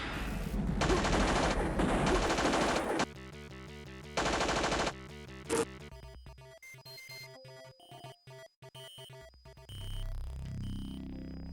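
Automatic assault rifle fire in the 1994 Looking Glass Technologies game System Shock, loud rapid bursts in two long stretches and a short one, then sparse electronic game sounds and a low hum.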